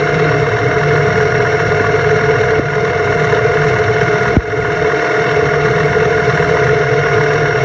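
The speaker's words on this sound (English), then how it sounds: "watt motor sound is higher pitched and higher frequency" Hub motor of a 250 watt e-bike spinning at top RPM, a steady close whine with a constant mechanical hum and vibration throughout, one small knock partway through.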